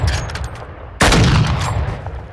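A gun in Call of Duty: Modern Warfare II fires one loud, sudden report partway through, with a booming tail that fades slowly, after quieter scattered game noise beforehand.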